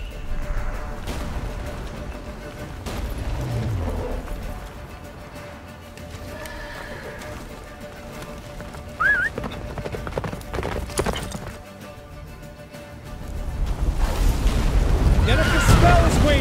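In The Witcher 3, a horse gallops with a steady clip-clop of hooves, joined by a whinny and distant booms in the game's battle soundscape. Voices speak over the hoofbeats in places.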